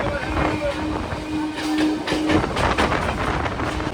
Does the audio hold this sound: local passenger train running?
yes